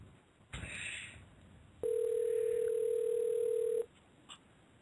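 A telephone call placed live during a radio show: after a brief burst of noise, a single steady electronic line tone sounds for about two seconds, loud and alone, then cuts off into quiet.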